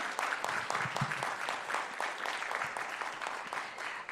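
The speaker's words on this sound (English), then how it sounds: "Can we just give them another round of applause?" At a piano and violin recital, the audience applauds the pianists with dense, steady clapping at moderate volume, sustained evenly across the whole stretch with no voices.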